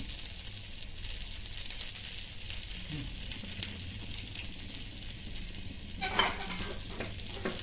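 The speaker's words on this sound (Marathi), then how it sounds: "त्याच्यात बाजूला तेल जरा सोडून घ्यायचं म्हणजे ते चांगलं भाजलं जातं" Bun dosa batter fries in oil on a pan with a soft, steady sizzle, joined by a few light clinks and scrapes of a utensil against the pan.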